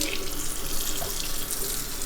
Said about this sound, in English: I'll let them cool off a little bit to rinse a little better